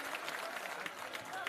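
A crowd claps in a dense patter of applause at a Jan Suraaj Holi Milan gathering in the Bihar Satyagraha Ashram, Patna. The brief burst is moderately loud and a voice carries over it.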